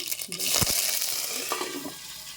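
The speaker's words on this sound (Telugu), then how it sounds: "ఇప్పుడు ఆయిల్ హీట్ ఎక్కిపోయింది. ఆవాలు వేసేద్దాము." Mustard seeds spluttering and popping in hot oil in a pan, a close, bright crackling sizzle with a few louder pops and thuds as the seeds hit the heat.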